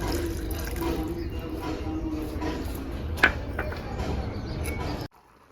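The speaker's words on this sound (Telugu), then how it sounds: "ఒక్క కప్పు నీళ్ళు పోసుకోవాలి మళ్ళా" A cup of water pours into a cooking pot for vermicelli, a close, continuous splashing gurgle with a brief sharp clink partway through, lasting about five seconds before cutting to near silence.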